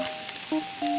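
Shrimp frying in oil in a tiny miniature kitchen, a constant close crackling sizzle with a few faint tonal beeps over it, no talking.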